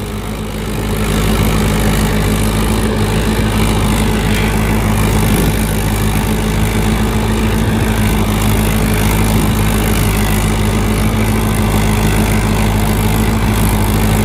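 A new Mahindra XP Plus tractor engine runs at a steady idle-like drone, loud and close, with a constant low throb throughout and no talk.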